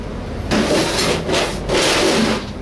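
Bondo body filler being stirred and smeared with a plastic spreader for auto body prep makes two close, loud, gritty scraping strokes, each lasting about a second, with a short pause between them.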